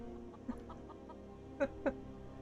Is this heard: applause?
no